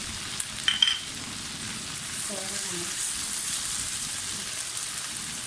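Cumin and carom (ajwain) seeds crackle and sizzle steadily in hot oil for masala bhindi, a dense high hiss with a few brief sharp pops near the start and some faint background sounds.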